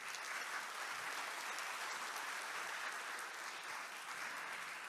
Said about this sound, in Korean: 다시 한번 따뜻한 박수 부탁드립니다